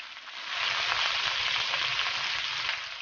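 Onions with ginger garlic paste fry in a pan, a dense, continuous close sizzle that swells after a quieter opening and holds steady without any voices.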